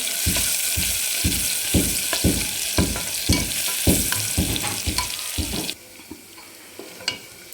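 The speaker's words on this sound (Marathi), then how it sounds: "भरपूर असा लसूण घेतलेला आहे ठेचून तो टाकून घेतो छान लसणाला आपण सोनेरी कलरवर परतून घेणार आहे" Crushed garlic frying in hot oil, a loud close sizzle with a rhythmic series of knocking spatula strokes that stops partway, leaving a quieter hiss and an occasional clink.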